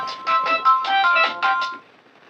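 A phone ringtone plays in quick repeated electronic chirps, fairly close and clear, then stops abruptly, leaving near silence.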